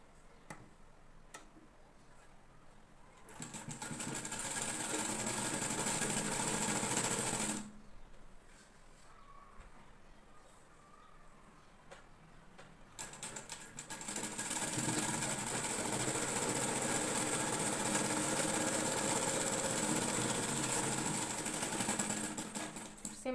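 A sewing machine stitches the seam of a princess cut blouse turned inside out, running in two steady bursts of rapid mechanical ticking, near and fairly loud, with a quieter pause between them.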